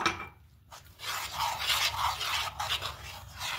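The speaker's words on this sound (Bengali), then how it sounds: "হ্যান্ড উইচে করে খুব ভালো করে প্রথমে মিশিয়ে নেব" A hand whisk scrapes and swishes around a bowl, mixing date palm jaggery in rhythmic rasping strokes after a brief pause, close and fairly loud, with nobody talking.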